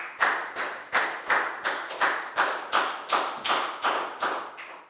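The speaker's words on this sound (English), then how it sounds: "a big round of applause for Nadia" Children in a Year 4 maths class clap for a classmate in a quick, even run of about a dozen sharp claps, close and loud, with no talking.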